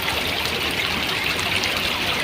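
A river stream at Los Dinamos in Mexico City flows steadily, a continuous close broadband rush of water with no voices over it.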